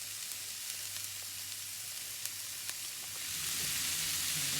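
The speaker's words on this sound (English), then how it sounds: "we want to brown up this meat" Minced meat for spaghetti bolognese browns in a pan with a soft, steady sizzle and crackle that grows a little louder toward the end, with no voices.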